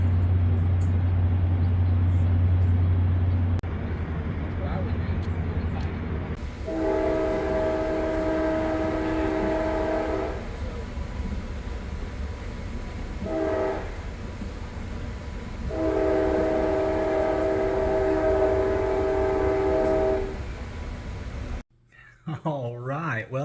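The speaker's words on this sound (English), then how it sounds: "I was like, a train in State 44?" A train rolls past close by with a steady rumble, its horn blaring in two long blasts separated by a brief short toot, before the sound cuts off abruptly.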